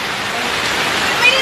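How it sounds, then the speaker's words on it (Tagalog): Rain falls in the evening, a loud, close, even hiss of drops pouring down over a brief stretch. "Yun oh, raining na."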